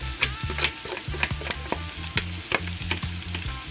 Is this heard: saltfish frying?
yes